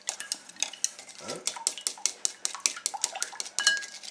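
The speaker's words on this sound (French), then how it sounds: "On va battre l'œuf." An egg being beaten for shrimp tempura batter, a utensil clicking rapidly and rhythmically against a bowl in close, crisp repeated taps.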